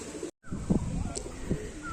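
A pigeon from an older-generation, good-quality stock gives two soft, low coos about a second apart against background noise, with a brief dropout near the start.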